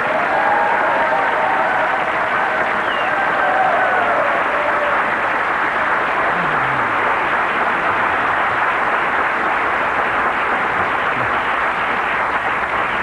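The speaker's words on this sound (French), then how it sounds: "On va applaudir notre ami Coco." Audience applause at a French television prank show, a dense, steady wash of clapping from a crowd lasting the whole stretch, loud and continuous.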